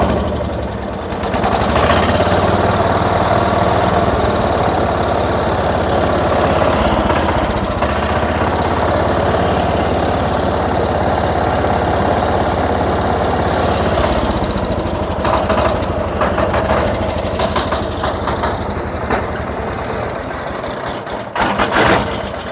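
A John Deere 210 garden tractor engine running, a loud, steady, close mechanical drone that holds evenly throughout, with a few rougher flutters near the end.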